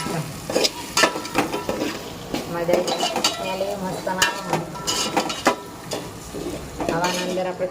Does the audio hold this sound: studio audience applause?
no